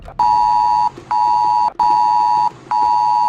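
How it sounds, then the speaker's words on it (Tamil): Mobile phone emergency alert tone: four loud, steady electronic beeps, each about three-quarters of a second long, separated by short gaps, alone with no talk. "இந்த மெசேஜ் வரும்போது எழக்கூடிய சத்தம் எப்படி இருக்கும்னா"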